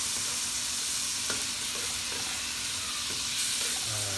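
Butter melts and sizzles in a pan with a steady fizzing hiss, broken by a few light clicks and scrapes of stirring.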